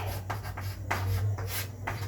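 Chalk or marker scratches across a classroom board during a physics lesson, a few short quick strokes in bursts over a low steady hum, close and fairly quiet.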